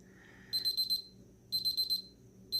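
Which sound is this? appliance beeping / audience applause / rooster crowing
appliance beeping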